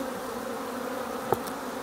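Honeybee worker bees buzz around hive frames during a late-season November inspection, a steady, dense drone with one brief tap partway through.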